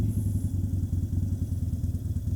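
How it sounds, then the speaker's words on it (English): A motorcycle engine runs with a steady, rapid low thumping pulse close by, loud and alone with no talk. "Let me go ahead and start it up for you real fast here."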